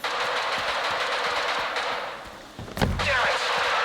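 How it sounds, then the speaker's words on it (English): Bursts of distant gunfire crackle throughout in the video game S.T.A.L.K.E.R. 2: Heart of Chornobyl, with a sharper nearby shot and thud partway through, over a hissing background. "Is that gunfire over there?"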